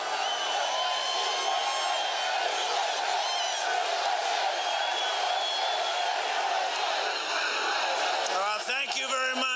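A large outdoor political rally crowd in Coachella, California cheers and whoops continuously, a dense roar of many voices sustained throughout with a few louder shouts near the end.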